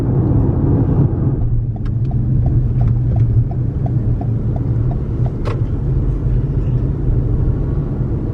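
Steady, loud road rumble from a car driving along a rural road near Lincoln City, Indiana, with a faint ticking pattern running over the constant drone throughout.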